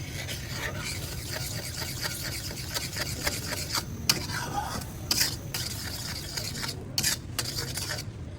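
A spoon stirs creamy, spicy white sauce for pasta in a pan, giving a steady, continuous scraping swish with a few sharper clinks against the pan, close by and with no talk.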